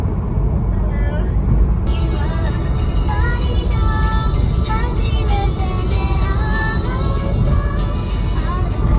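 A car driving fast on a road trip in Niigata, a loud steady road and engine rumble inside the cabin, with faint voices over it.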